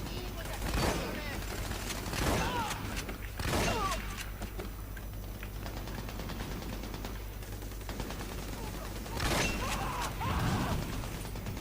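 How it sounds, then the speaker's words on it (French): Shotgun handling and loading clicks with bursts of gunfire in the video game Army of Two, loud mechanical racking and shots in clusters over steady game background noise. "Allez, on va utiliser le fusil à pompe."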